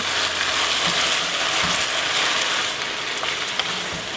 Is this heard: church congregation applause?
no